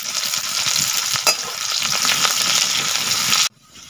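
Onions frying in a pan for a broiler chicken feet dish in a village kitchen: a steady, loud sizzle with stirring scrapes and one sharp clack, cutting off abruptly near the end.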